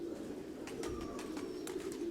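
Pigeons coo softly in a loft, low rounded calls layered over a steady background hum, fairly faint and without talk.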